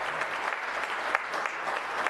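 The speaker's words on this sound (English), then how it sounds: "Applause." Audience applause at a public input meeting on a Lexington short-term rental ordinance, a steady wash of many hands clapping throughout with no talk over it.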